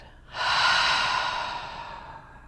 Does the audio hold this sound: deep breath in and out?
yes